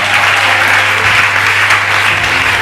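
A church congregation applauding loudly and steadily in a dense, continuous wash of clapping, close and sustained without a break.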